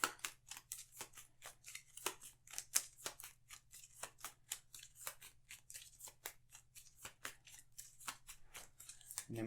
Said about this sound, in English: Then we will shuffle.